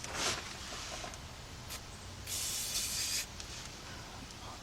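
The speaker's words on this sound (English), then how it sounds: "spray in there a little bit." Short hissing bursts from an aerosol can sprayed onto radius control arm bushings on a 1995 Ford Econoline E-150, a couple of brief sprays and then a longer one, close up with no talking.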